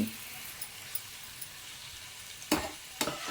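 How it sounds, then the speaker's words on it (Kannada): Radish pieces frying in oil for jujh radish bajji, a faint steady sizzle with two louder bursts of stirring or clatter near the end. "ಆಯಿಲಲ್ಲಿ ಸ್ವಲ್ಪ ಫ್ರೈ ಆದ ಆಗಬೇಕು"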